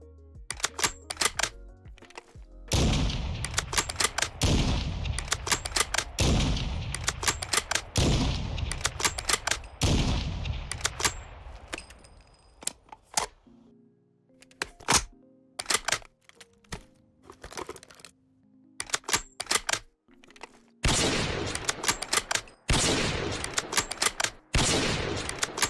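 Modded weapon gunfire in Fallout 4 with custom sounds: repeated loud gunshot bursts and rapid volleys with trailing echoes, separated by short pauses and a few isolated single shots.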